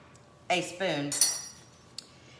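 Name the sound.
spoon clinking against dish while serving almond pear tart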